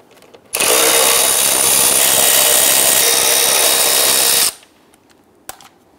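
A power drill backs out T20 Torx screws from the front grille of a 2011-2019 Ford Explorer, running in one loud, steady burst of about four seconds, followed by quiet and a brief click.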